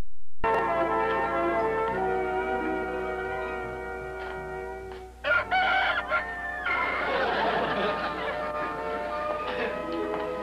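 A rooster crows loudly and close by in a long, drawn-out call, followed by clucking and scattered farmyard fowl noise in a 1966 sitcom scene.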